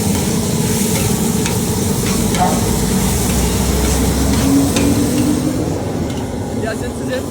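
Small camel liver sizzles and fries on a street-food griddle, a steady loud crackle with stirring and scraping throughout while people talk nearby.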